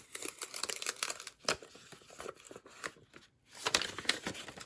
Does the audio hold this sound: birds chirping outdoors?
no